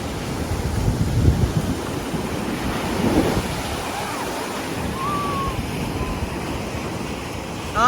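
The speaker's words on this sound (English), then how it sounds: "The beach today." Gulf surf at Orange Beach, Florida, with waves rolling and breaking in a steady wash amid wind buffeting the microphone, with a faint higher tone drifting through the middle.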